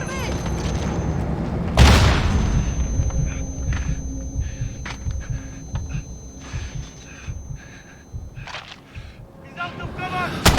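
Gunfire and explosions in the Modern Warfare campaign mission Into The Furnace. A heavy boom bursts out early, followed by rumbling, scattered impacts and shouting voices.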